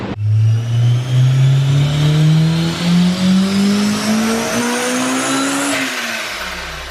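A car engine on a fuel-tuning run revs up in one long, smooth, rising sweep, loud and close, then drops back sharply near the end, with no talk over it.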